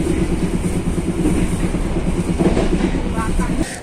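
KA Logawa passenger train arriving at Klakah station, heard from on board as a loud continuous rolling rumble with rhythmic clacks, easing near the end as it slows.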